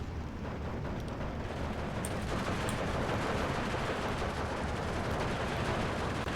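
Battle in Steel Division 2 with shell fire and submachine gun bursts: a dense, rumbling roar of gunfire and explosions that holds steady and grows slightly heavier, with scattered sharp cracks on top.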